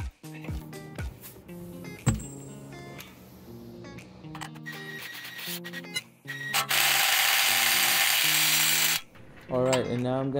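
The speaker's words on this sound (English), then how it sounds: "proceed to do the rest of the nuts before I tighten everything" Mechanic working nuts onto a Toyota Tacoma sway bar during a needle bearing replacement, with tool clicks, ratcheting and rubbing sounds, plus a long loud grinding burst near the end.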